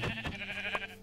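A Minecraft sheep gives a short, wavering bleat, close and distinct, lasting about a second with no talking over it.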